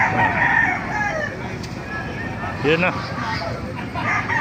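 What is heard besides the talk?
roosters crowing at a market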